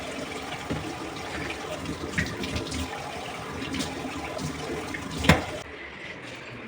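Tap water runs steadily into a kitchen sink as dishes are washed, with light splashing and an occasional clink close by, and the flow stops abruptly near the end.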